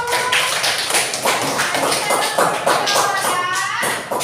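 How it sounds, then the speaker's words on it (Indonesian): A group of students in an Indonesian classroom claps hands in a quick, uneven burst of sharp slaps close by, with some voices mixed in. "Ya, tepuk tangan dulu"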